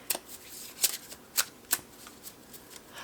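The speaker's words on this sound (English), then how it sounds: "Maybe if I shuffle, it'll come back to me." Tarot cards being shuffled by hand, several sharp riffling bursts at uneven intervals, close and crisp, with quieter card handling between them.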